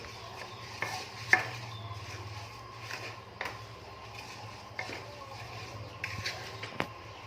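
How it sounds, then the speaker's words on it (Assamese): Soaked rice for pulao is stirred and fried in a pan in a home kitchen, with periodic scrapes and clinks of the spoon against the pan over a quiet, low sizzle. "এতিয়া ভাজি থাকিম"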